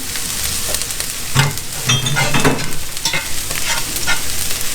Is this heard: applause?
no